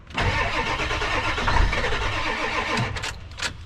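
A 7.3 turbo diesel 4x4 van engine cranks over in a steady churning rhythm, close and loud, then cuts off without catching, followed by a few sharp clicks.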